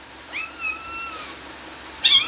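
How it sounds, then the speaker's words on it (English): Two cats fighting, with a rising, drawn-out yowl held close and clear, then a sudden sharp hiss or screech at the end. "these two cats are dumbasses and like to fight so much"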